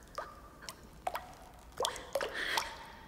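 Water drips and plops in a few separate drops, each a short, clear splash with gaps between them, fairly close and quiet over a hushed background.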